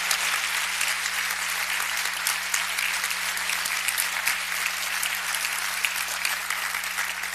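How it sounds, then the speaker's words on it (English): Steady applause from a seated audience at a graduate student white coat ceremony, honoring the coat donors; dense, even clapping sustained throughout with no voices over it. "I want to make sure we all give them a big round of applause for making this ceremony happen"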